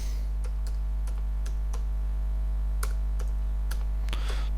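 Keys on a computer keyboard are tapped in a sparse, uneven rhythm over a steady low electrical hum, with clicks fairly close and moderately quiet.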